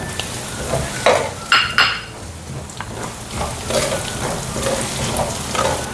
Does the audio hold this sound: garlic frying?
yes